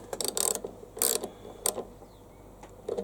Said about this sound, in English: tighten that cable back down.